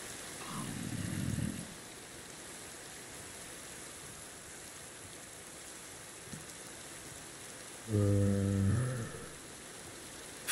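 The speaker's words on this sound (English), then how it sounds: "It's raining outside too." Steady rain falls outside throughout, a continuous even hiss with a couple of short louder low bursts breaking in partway.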